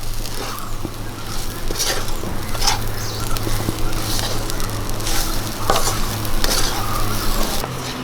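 Salted spinach thoran stirred in a hot pan, a close continuous sizzle with repeated scraping strokes of a spoon against the pan.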